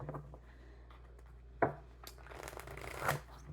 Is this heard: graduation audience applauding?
no